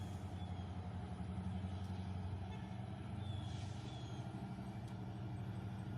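A Norfolk Southern westbound locomotive approaches at Chesterton, Indiana, a steady low diesel engine rumble building slightly, continuous and fairly distant, with no voices over it.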